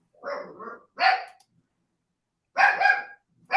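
A dog barks close by, with two short bursts, a long silence, then another rough double bark and a final yelp at the end, loud and clear with no one speaking.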